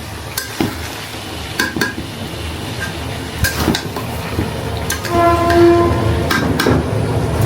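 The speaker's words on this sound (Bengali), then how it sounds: "ঘন্টায় ঘন্টায় ট্রেন যায় আর একটু পরপর শব্দ হয়।" A train runs along a railway line beside a house, heard as repeated clanks and rumbling wagon noise with a sustained horn-like tone partway through, fairly loud and close.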